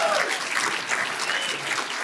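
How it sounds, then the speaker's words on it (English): A live audience at a Chicago podcast show applauds the host, a dense sustained wash of clapping from a sizable crowd, loud and continuous throughout. "Can we give a round of applause for our host?"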